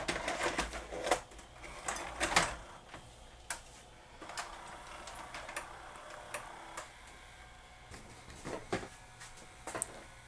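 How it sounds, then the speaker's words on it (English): A GoVideo GV4060 dual deck VCR, faulty and prone to eating tapes, takes in a cassette with a run of close mechanical clicks, ticks and whirs that come in irregular bursts. "let's pop a tape in deck 1, see what happens"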